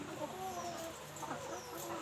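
Egg-laying hens in a chicken coop cluck softly in the background, faint and distant over a noisy room tone, with a few brief murmuring calls scattered across the moment.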